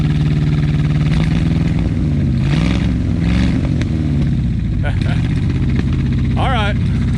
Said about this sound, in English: Rev her up, just in there. Rev it up.